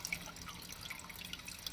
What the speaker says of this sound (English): it's dripping in real slow